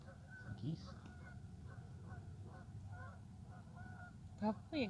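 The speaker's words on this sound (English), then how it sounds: "Probably a goose. Sounds like a goose." Geese honking near a lake by a train trestle, a few short honks scattered across the stretch with a louder pair near the end, over a low outdoor rumble and faint background noise.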